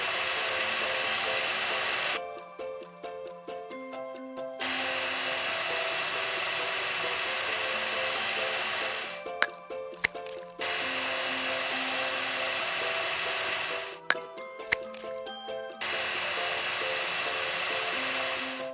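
An electric mixer whirs loudly and steadily as it beats cake batter with eggs for a Christmas cake, in three long runs with short quiet pauses and light clinks between them, close up and without talking.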